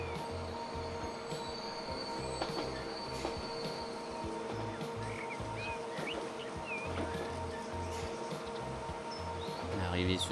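A train runs along the rails in the Transport Fever 2 video game, a steady rumble with rhythmic wheel clatter and faint squealing at moderate level, with no talking.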